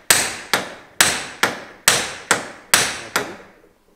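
Hammer blows driving out a BMW drive shaft in a garage, seven sharp metallic strikes loosely paired in rhythm, each ringing briefly, loud and close with no talk.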